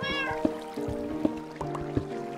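A Minecraft cat meowing, four short, clear meows spaced evenly and fairly close, over a soft bed of flowing water and game ambience, with no talk.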